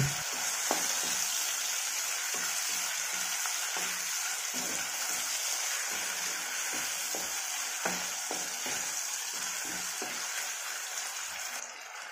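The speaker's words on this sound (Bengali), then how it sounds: "তো টমেটো কুচিটা দিয়ে আমি আবার কিছুক্ষণ ভেজে নেব।" Chopped tomato frying in a pan while cooking chicken gizzards and liver with mung dal, giving a steady, even sizzle with occasional soft pops and stirring clicks throughout.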